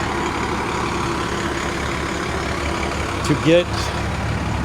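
A motorhome drives with a steady, low engine rumble at moderate volume while a person speaks briefly over it.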